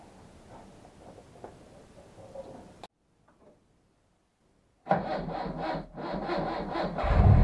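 A classic car engine with electronic ignition cranks slowly on a weak battery and labors with a rhythmic grinding chug, after a stretch of quiet. It is loud and close and ends as the engine catches.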